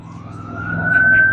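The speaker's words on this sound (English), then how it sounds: "Everybody watch out for the ambulance." A wailing ambulance siren climbs steadily in pitch and grows louder as it approaches on a street, with low road and engine rumble underneath.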